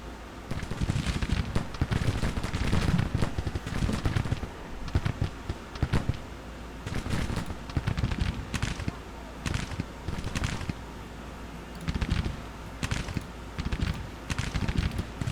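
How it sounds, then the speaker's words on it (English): Musket volleys and artillery fire in the Civil War strategy game Grand Tactician, a steady stream of crackling, overlapping shots and booms that continues dense and loud throughout, with no pause and no speech over it. "we just devastated them with that volley. Alright, turn on that artillery next."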